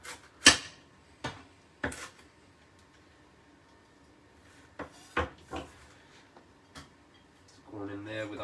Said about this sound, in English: Just give this one last chop.